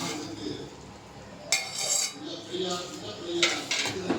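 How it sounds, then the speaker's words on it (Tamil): Fried chicken tipped into a pot of gravy and mixed, with pot and utensil clinks and scraping, a couple of louder clatters, close by over a soft background. "இப்போ பொறிச்சு வச்ச சிக்கனை இதில் போட்டுருவோம்"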